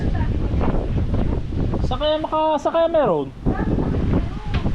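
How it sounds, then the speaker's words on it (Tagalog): Strong wind buffets the microphone with heavy low rumbling gusts, while a person speaks briefly partway through. "Lakas ng hangin ah."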